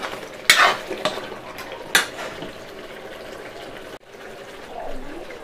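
Aloo pyaz paneer curry with fresh coriander and chopped green chillies being stirred in a pan, giving a few sharp metallic scrapes and clinks of a spoon against the pan over a soft background sizzle.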